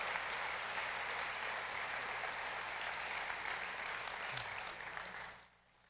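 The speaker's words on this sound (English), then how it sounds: "Let's give them a great big round of applause." A large audience at the 2018 Choctaw Nation State of the Nation event claps in a continuous, even roar of applause that fades out near the end.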